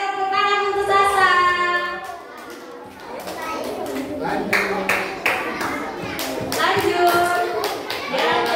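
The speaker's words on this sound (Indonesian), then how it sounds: "tepuk tangan untuk Sasa." Children clapping on the first day of primary school orientation, bursts of scattered hand claps following a voice and lively chatter, with uneven rhythm and voices throughout.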